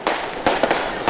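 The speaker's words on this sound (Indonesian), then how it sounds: "merayakan pergantian tahun 2022 menjadi 2003 dengan pesta kembang api" Fireworks at a New Year's Eve celebration on Padang beach crowded with tourists, a rapid series of sharp bangs and crackles over a constant dense roar, loud and close.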